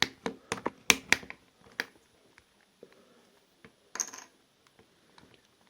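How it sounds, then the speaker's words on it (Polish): A Sony Ericsson V640i phone from 2007 has its front cover pried off, giving a quick run of sharp plastic clicks and snaps early on, then scattered faint taps and one more crisp click cluster, close and quiet. "Podwadzamy tutaj cały nasz przód z jednej strony i to samo robimy z drugiej strony."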